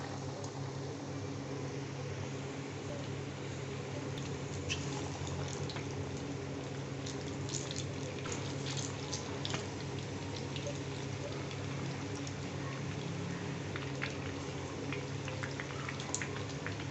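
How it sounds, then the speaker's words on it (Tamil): Egg bondas deep-fry in hot oil with a steady, dense bubbling hiss that holds evenly throughout, close and continuous, with faint crackles scattered over it and no talking. "முட்டையை இதில் முக்கிட்டு நம்ம அப்படியே எண்ணெயில் போட்டு சூப்பராக பொரிச்சு எடுத்துடலாம்."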